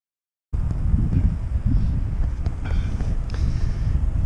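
Steady wind buffeting the microphone outdoors in wet mountain weather near Bossòst in the Pyrenees, a continuous low rumble throughout; rain is not distinctly audible beneath the gusts.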